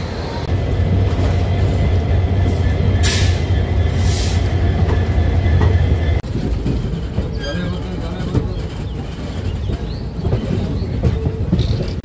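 The 13173 Up Kanchanjungha Express runs past New Jalpaiguri toward Jalpaiguri Road, a loud steady rumble and rattle of wheels on track heard from aboard, with brief higher squeals and a quieter stretch later, and someone talks over it.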